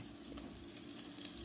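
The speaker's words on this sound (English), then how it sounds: "I just pour a touch of coconut milk on there like that" Coconut milk poured into a hot pan for a West Indian-style red Thai curry, a soft continuous liquid hiss and gentle sizzle, faint and steady with no talking.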